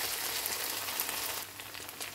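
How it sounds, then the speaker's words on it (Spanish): Chicken breast frying in a pan hisses in a soft, steady wash after white cooking wine goes in. The sizzle stays faint and dense throughout. "Le voy a agregar un poco de vino blanco"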